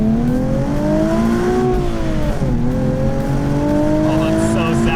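A 2020 Nissan 370Z NISMO engine revs hard toward its 7,600 RPM redline, pitch climbing high and screaming, dipping briefly as it shifts, then rising again, loud and close.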